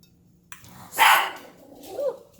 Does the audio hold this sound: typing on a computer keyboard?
no